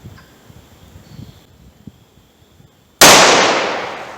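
A single sharp, loud gunshot from a Taurus 605 revolver with a 2-inch barrel firing .357 handloads follows quiet ambient rustle, and its ringing report fades slowly over the next second.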